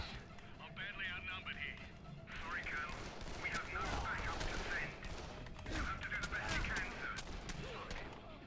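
Rapid bursts of gunfire crackle through a melee-heavy fight in the video game Dead Island, dense overlapping shots and impacts rolling on for several seconds with voices talking over the battle.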